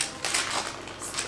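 A serrated knife saws through soft bread dough for a braided Christmas loaf, giving a few close, rasping strokes in quick succession with no talking.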